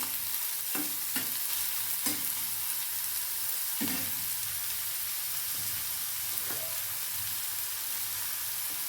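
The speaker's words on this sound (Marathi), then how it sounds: "कांदा छान परतून घ्यायचा आहे आपल्याला" A large chopped onion sautéing in a pan gives a steady, even sizzle, broken by a few sharp scrapes of a spatula, close and without talk.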